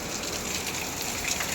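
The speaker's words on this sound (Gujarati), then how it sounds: "ધમધોકાર વરસાદ છે આજનો" Heavy rain pours down in Surat in a dense, steady wash of hiss and drumming that runs unbroken and fairly loud throughout.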